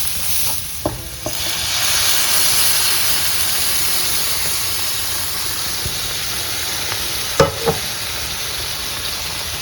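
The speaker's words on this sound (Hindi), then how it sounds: "अब इसके अंदर हम हमारी दाल मिक्स" Dal is stirred into a sizzling masala in a home kitchen pan, giving a steady frying hiss broken by a few sharp spoon scrapes and clinks, close and alone with no talking.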